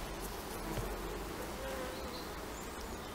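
Honeybees buzzing in and around an open beehive, a dense, continuous hum close by with a few individual bees droning past, moderately quiet and without talk.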